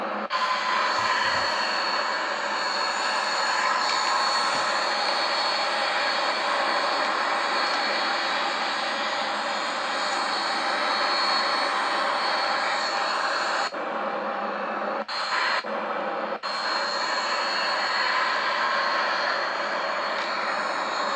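Boeing 737-800 jet engines in the X-Plane flight simulator, a loud steady roaring whine with a broad hiss that holds constant, briefly dipping and cutting out twice near the end.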